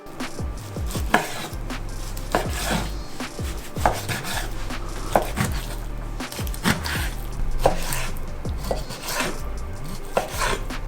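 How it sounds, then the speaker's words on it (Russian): A knife repeatedly slices beef into thin strips on a wooden board, irregular sharp taps and scraping slices, close and fairly loud with no talking. "Дальше нарезаем мясо на пластинки."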